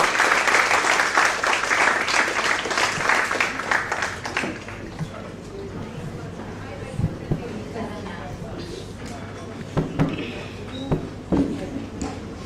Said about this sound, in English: Can we have a big round of applause for Helen?